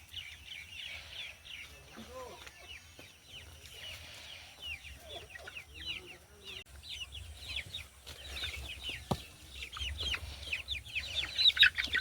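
Chickens cluck and call in a village yard, several birds near and scattered with soft repeated clucks and chirps growing busier toward the end, with faint low background noise.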